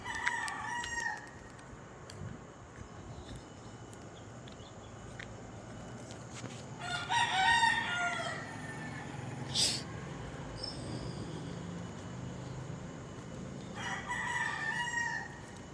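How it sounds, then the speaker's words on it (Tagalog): A rooster crows several times at a distance over steady outdoor background noise, with a few clucks and footsteps between crows. "Tumutila itong manok guys"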